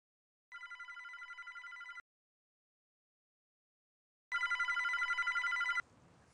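A telephone bell rings in two bursts, each a rapid electric trill lasting over a second, separated by a silent pause; clear and fairly close, with no voices.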